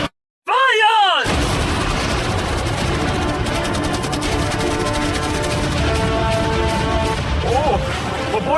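Cannons, fireworks, arrows and catapults firing together at a yacht in a video game, a dense sustained barrage of booms and crashes after a brief silence, loud and continuous with layered blasts.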